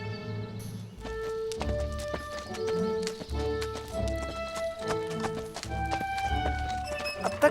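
A horse's hooves clip-clopping in a quick uneven rhythm close by, with a whinny and thuds among them, over steady background music.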